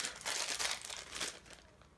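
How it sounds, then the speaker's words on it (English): A plastic bag of wooden board game tokens is opened up close, crinkling and rustling in several bright bursts over two seconds. "they'll go ahead and open up the bag of wooden tokens"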